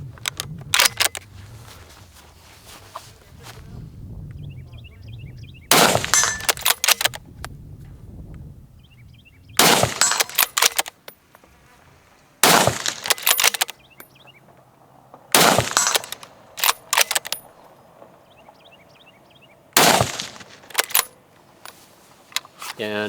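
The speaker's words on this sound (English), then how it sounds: "Let's shoot some rounds through this." Loud, sharp rifle shots from a Steyr Scout .308 Jeff Cooper Limited Edition, five reports spaced a few seconds apart, each ringing out over quieter handling noise and brief talk between them.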